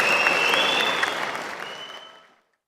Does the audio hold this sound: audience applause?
yes